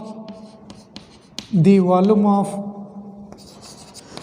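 Someone writes on a board during a chemistry lecture, producing short scratchy strokes and taps, with a brief voice in the middle.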